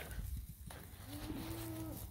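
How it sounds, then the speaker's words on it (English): A cow in a grazing herd gives one drawn-out moo that rises and holds steady, heard from some distance across the pasture over low wind and outdoor rumble. "There's one cow clear down in the corner."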